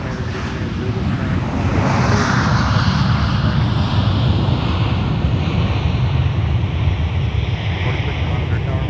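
Boeing 737-900ER airliner engines at MSP airport, a steady loud roar of jet noise with broad rumble holding evenly throughout, no distinct voices.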